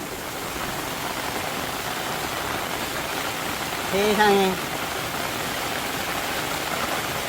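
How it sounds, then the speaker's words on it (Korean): Steady rain falls on a vegetable garden planted with garlic and cabbage, making a dense, even hiss throughout. A woman briefly exclaims under the continuous downpour. "다 심고 나니까 비가 오네"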